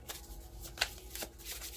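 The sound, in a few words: shuffling tarot cards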